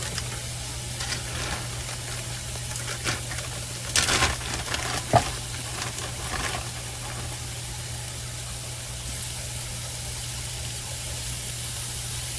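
Ground beef in a hot pan for pasta sauce, sizzling steadily with a hissing spray, a few louder crackles and bumps of handling near the middle, close and continuous with a low hum underneath, no voices.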